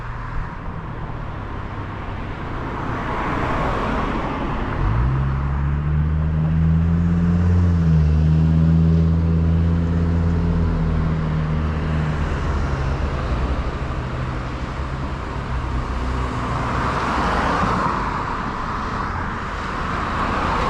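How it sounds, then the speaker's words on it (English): Traffic rolls along a busy little road beside a curbside scrapping stop, with a steady roadway rush and a louder vehicle passing close by in the middle. The engine hum swells and then fades. "Yep, gotta wait for traffic."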